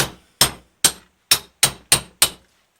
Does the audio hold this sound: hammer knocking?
yes